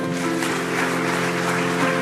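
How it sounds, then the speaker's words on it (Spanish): A church congregation applauds during a Spanish-language sermon, a steady, sustained patter of many hands under a continuous tonal hum from music or organ, with no speech. "Denle un fuerte aplauso al Señor."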